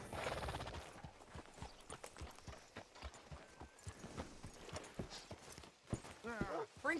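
Horse hooves clip-clop in a steady walking rhythm in the game Red Dead Redemption 2, fairly close, with a snort or whinny near the end and voices talking over the footfalls.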